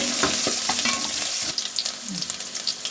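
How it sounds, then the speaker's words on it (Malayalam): Oil sizzles steadily in a pan as chopped garlic and ginger fry, while a utensil scrapes and stirs in irregular knocks, with bright crackling spitting later on. "ഈ അരിഞ്ഞ് വെച്ച വെളുത്തുള്ളി വെളുത്തുള്ളി ഇഞ്ചി ഇട്ട് ഒന്ന് മൂപ്പിക്കുക"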